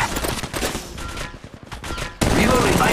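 Rapid bursts of gunfire crackle close and loud in a ranked battle royale match of Apex Legends Mobile, dipping briefly before a dense volley resumes; a voice speaks faintly underneath.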